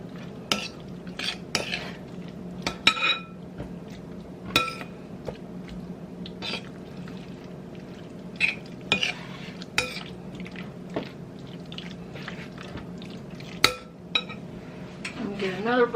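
Beef stir fry is worked around a hot pan with a utensil, giving scattered scrapes and sharp metallic clinks over a soft, steady background, quiet and close.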